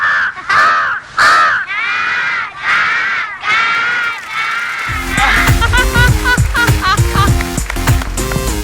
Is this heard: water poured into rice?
no